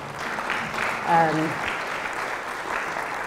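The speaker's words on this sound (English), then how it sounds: "Sure, we can clap for them." Applause from an audience in a Unitarian Universalist church sanctuary, a soft, fairly distant patter of clapping running throughout, with a brief voice-like tone rising over it around the middle.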